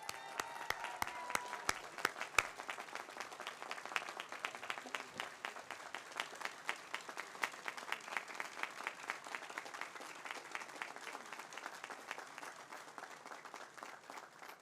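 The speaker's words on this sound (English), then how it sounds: "I'd ask for a round of applause for the LLM graduates of 2024." Graduates of the Berkeley Law LL.M. class of 2024 receive a long round of applause at their commencement ceremony, dense clapping from a large crowd with sharper individual claps standing out early, fading slightly toward the end.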